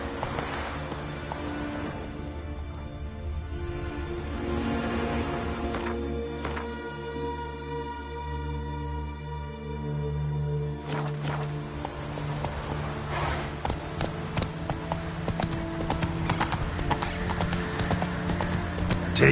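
Horse hooves clip-clop at a steady gallop rhythm in The Witcher 3 video game, with saddle and tack sounds over a continuous musical score, an occasional whinny, and no speech.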